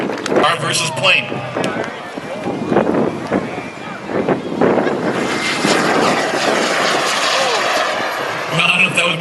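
An RC model jet plane roars along the runway at the SCCMAS airshow in 2014 while a car races alongside; the engine whine stays loud and close throughout, with voices talking over it.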